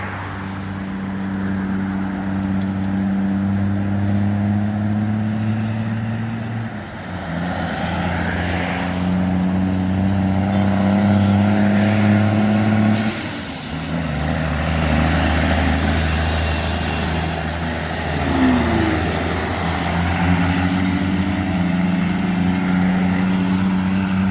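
A loud, nearby Kenworth truck with a Cummins L10 engine on a Jamaican road, a deep droning roar that climbs and drops in steps as it shifts gears and engine-brakes, with no pause.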